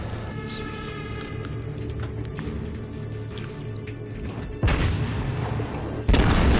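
In the naval video game World of Warships, the USS Wyoming battleship fires a main gun volley: two heavy booms about a second and a half apart cut through a steady rumbling engine and ambient game drone.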